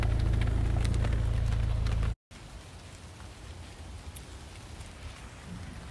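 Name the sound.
rain falling while fishing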